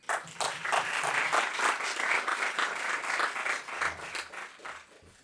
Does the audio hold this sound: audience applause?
yes